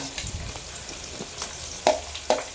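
Chopped onions dropped into hot oil with garlic set up a soft steady sizzle, with a few quick stirring scrapes and two sharp clinks of a utensil against the pan near the end, no voices.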